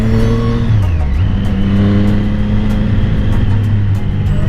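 Triumph Street Triple motorcycle with an SC Project exhaust accelerates on a road, its loud close engine note rising, dropping briefly at a gear change, then climbing again, with no talk.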